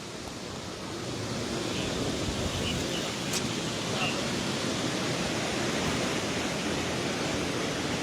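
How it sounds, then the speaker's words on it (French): Strong wind buffets a microphone outdoors at a hill-climb race in Pourville-sur-Mer, a loud continuous roaring rumble that fills the whole stretch with no pause. "J'espère que vous m'entendez bien avec malgré le vent."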